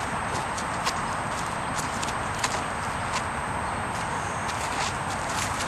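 A 3-year-old Mustang gelding's hooves clip-clop steadily on the ground during desensitizing and obstacle work, a continuous near stream of footfalls over a constant outdoor background, with no talk.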